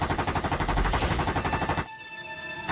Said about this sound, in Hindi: ये सरकारपुर है, यहाँ पे बंदूकें चलती है